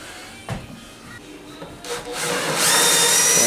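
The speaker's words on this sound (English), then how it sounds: "we're also going to have to pre-drill because we're going through solid maple" A power drill pre-drills through solid maple during kitchen island cabinetry installation, with a few light taps and rubbing, then the drill whine rising and holding loud and close.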